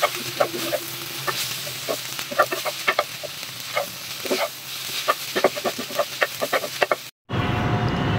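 Noodles being lightly fried and stirred in a pan late at night: steady sizzling broken by repeated sharp scraping and clinking of a utensil against the pan, close and continuous, with no talking.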